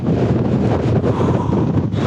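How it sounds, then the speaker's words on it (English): Heavy wind buffeting the microphone outdoors on a Welsh hillside during a rainy van-camping trip, a continuous loud roaring rumble with no talking. "Windy, rainy."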